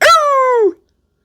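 A single dog's bark, loud and close, drawn out into a howling yelp that slides down in pitch and cuts off cleanly, with no other sound around it.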